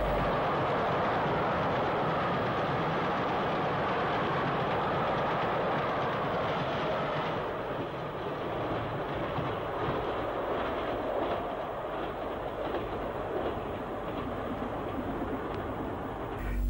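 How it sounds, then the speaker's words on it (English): Down Bournemouth steam train of the late 1950s or 1960s passing Worthing Junction, a steady rolling rumble with faint rhythmic clickety-clack of wheels over rail joints, moderately distant and unbroken. "A down Bournemouth train passes Worthing Junction."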